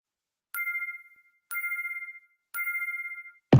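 A telephone rings three times in an even electronic pattern, each ring a bright warbling burst lasting about half a second, clear and alone, with a brief thump at the very end.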